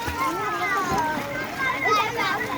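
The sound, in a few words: water splashing as a child swims in a pond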